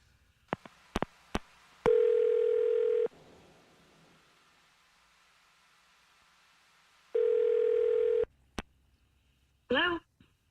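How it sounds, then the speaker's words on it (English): Telephone call being placed to a number: several short dialing tones, then two long steady ringback tones separated by a pause, a few more clicks and beeps, and a brief burst of voice at the end. "I'm going to dial her phone number right now"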